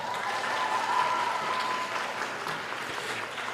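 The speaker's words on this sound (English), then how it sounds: "Let's give her a round of applause." Applause in a theater lobby at a high school award ceremony, soft and steady clapping from a crowd heard at a distance, fading slightly toward the end.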